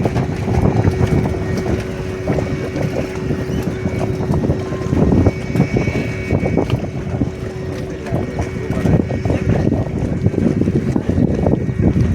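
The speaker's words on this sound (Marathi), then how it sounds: "बघा खूप लांबपर्यंत गेलेली स्कूटर बोट." A scooter boat runs on a wide river, giving a continuous engine drone mixed with heavy wind buffeting on the microphone. It stays fairly loud and steady throughout.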